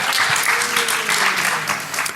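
A crowd at the DEF CON 21 hacking conference bursts into loud, continuous applause with cheering mixed in, a dense wash of clapping throughout.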